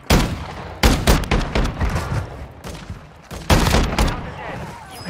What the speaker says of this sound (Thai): ใครไปยิงกูเนี่ย